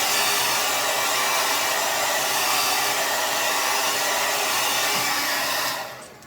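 A hair dryer blows loudly and steadily, a constant close airy roar that cuts off near the end.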